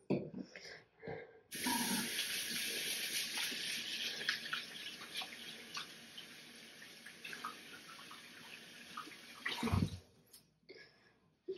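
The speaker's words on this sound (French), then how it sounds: "Je vais me laver les mains." Bathroom tap runs as hands are washed under it, a steady rushing spray of water lasting several seconds, with splashes and soft handling noises before and after.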